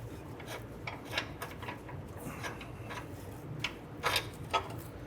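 Steel steering rack bolt on a 1994-2004 Ford Mustang being pushed through its mount, giving soft metallic rubbing, scraping and ticking, a few sharper clicks near the end, close and quiet with no talking.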